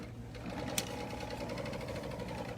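A serger sewing machine stitches stretchy knit fabric with a fast, steady, quiet mechanical whir and no pauses.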